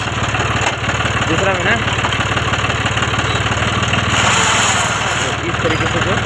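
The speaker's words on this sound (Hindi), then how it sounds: "दूसरा जो गियर है इसमें वो ठीक से नहीं लग रहा है। चलो गियर लगा के दिखाओगे" A John Deere 5310 tractor idles loudly with a steady low diesel chug and mechanical rattle while its gearbox struggles to engage second gear; someone speaks briefly over the engine.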